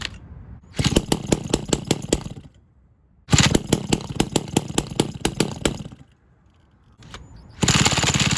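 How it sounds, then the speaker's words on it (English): The small engine of a Razor mini bike is turned over with a power drill, giving repeated rapid rattling bursts of several seconds each, separated by brief pauses, loud and close. "It's gonna be an attempt at drill starting it."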